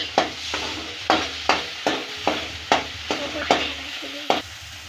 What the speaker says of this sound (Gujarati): હવે તેને આવી રીતે હલાવી લઈશું